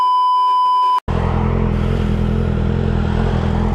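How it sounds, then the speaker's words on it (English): A Yamaha XJ6 motorcycle engine on a test ride runs loud and steady after a brief electronic beep and a short gap, a continuous close engine drone with wind noise and no talk. "I'm test riding an XJ6 and it is fucking loud as hell."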